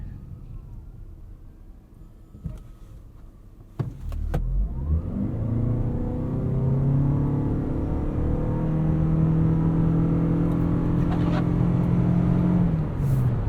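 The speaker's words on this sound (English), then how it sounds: "Let's do a 0 to 60 here and feel what it's like from a dig." A 2021 Toyota Venza Limited hybrid accelerates hard from a stop to 60 mph, heard from inside the cabin as a rising, sustained engine drone that climbs in pitch and holds loud after a brief thump at the launch.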